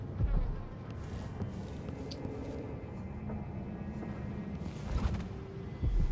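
A blood fly hive inside a corpse in Dishonored 2 gives off a steady insect buzz, a dense droning swarm that holds at a constant level with a few faint creaks and thumps underneath.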